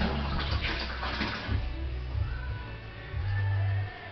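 Spring water pours into a beer fermenter with a steady splashing rush, ending in a louder, fuller gush near the end, with no talking.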